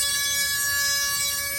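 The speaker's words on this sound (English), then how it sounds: "I don't know why the bit decides to make a little noise today" A rotary carving bit shaping wooden owl feather groupings gives a loud, steady, high-pitched whine with a sharp tonal ring, alone and unbroken.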